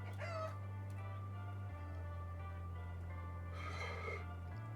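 A chicken clucking and crowing in a video game, with a couple of short, nasal calls at the start and near the end over a steady droning background tone.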